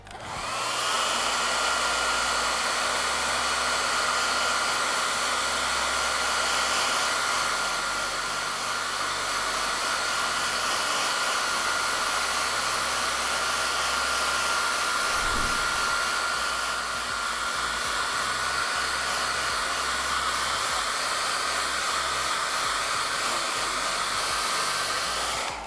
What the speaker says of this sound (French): on va simuler l'évaporation de la transpiration grâce à ces sèche-cheveux